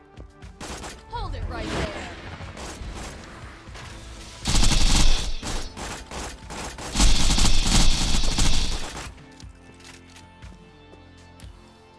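Gunfire rattles through a Borderlands 3 boss fight with a Pimpernel sniper rifle: rapid bursts and scattered shots, with two loud, dense volleys in the middle, and a character's voice briefly heard.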